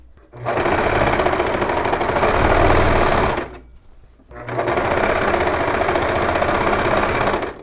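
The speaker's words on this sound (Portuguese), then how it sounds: "E aí, a gente vai costurar todo o contorno." A sewing machine stitches the seam of a child's dress in two loud, fast, steady bursts of rattling needle strokes, separated by a brief pause.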